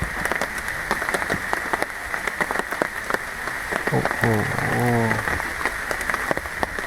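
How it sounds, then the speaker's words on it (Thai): Light rain falls in a forest at Pha Hin Ngam National Park, a steady soft patter on surfaces throughout, with a brief voice exclaiming partway through. "ได้ยินเสียงฝน"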